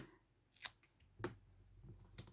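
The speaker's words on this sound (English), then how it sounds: "it does kind of stick to your scissors, and it doesn't make for very easy cutting" Scissors cutting a thick 3 mm Nbeads bead sheet, with three distinct crisp snips spaced about half a second apart over quiet room tone.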